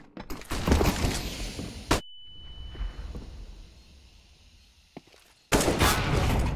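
A flashbang grenade in Counter-Strike goes off with a sharp bang followed by a thin, steady ringing tone that fades, framed by bursts of loud gunfire before and after.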